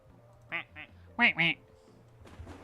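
Cartoonish ducks quack in a video game, two short quacks then a louder pair close together, with faint tones in the background.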